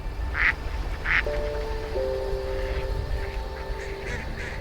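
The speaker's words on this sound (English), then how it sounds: "Too many daggone ducks." Ducks quacking over an Idaho cornfield during a hunt, several loud nearby quacks at the start, then fainter scattered calls from many birds over a low rumbling background with a steady tone.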